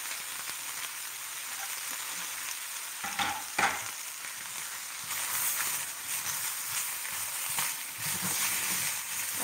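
Onion frying in a pan gives a steady sizzling hiss, with sharper crackles and stirring bursts partway through as it is moved around, close and without speech.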